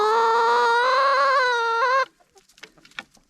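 Silkie chickens, a splash rooster among the backyard flock, give one loud, sustained, drawn-out call lasting about two seconds, followed by a few faint, scattered clucks.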